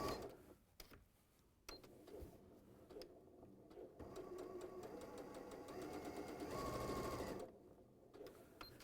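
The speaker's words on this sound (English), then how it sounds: "Perfect sewing without using the foot pedal." A sewing machine stitching without the foot pedal, run by button while a dress and zipped jacket are being made, gives a rapid, close mechanical whirr that starts and stops in short bursts, then runs steadily for a few seconds.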